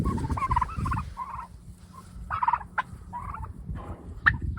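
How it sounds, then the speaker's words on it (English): Turkeys gobble nearby in short, rapid warbling bursts, several calls overlapping and repeating over a few seconds, with faint rustling between them. "Let's let some turkeys out and see what kind of disaster this can be."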